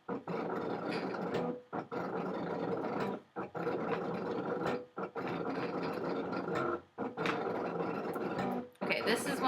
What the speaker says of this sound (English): nobody tell my Cricut it's still cutting and I'm pulling things off its mat